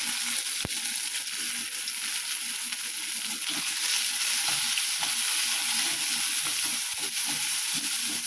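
Onions and garlic, including small shallots, fry in a pan with a steady, bright sizzle that fills the whole stretch, broken by a few soft stirring scrapes and taps, close and fairly loud with no talking.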